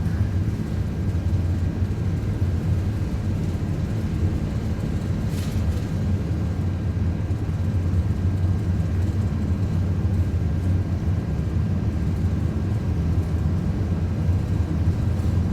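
Airbus A330-200 engines spooling at takeoff thrust on a runway in an iniBuilds flight simulator, producing a steady, loud, dense low rumble that holds without a break from start to finish, with no voices.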